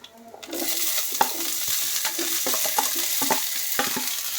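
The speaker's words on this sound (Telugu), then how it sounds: "ఇవి వేగుతున్నాయి కదా, దీంట్లోకి పచ్చిమిరపకాయలు వేసుకుందాం" Green chillies sizzle in a pan with peanuts and coriander seeds for a Telugu capsicum roti pachadi, a steady close frying hiss broken by repeated scraping stirs, with no talking.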